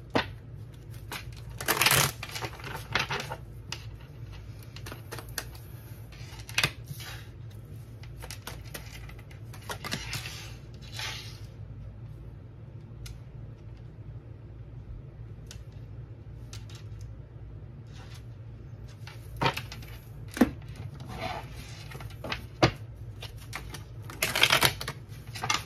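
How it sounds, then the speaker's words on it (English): Tarot cards are laid down and shuffled on a table, giving sparse crisp taps and rustling slaps in scattered bursts over a quiet room, close and fairly soft, with no talking. "We're just going to lay these cards down and we're going to talk about them."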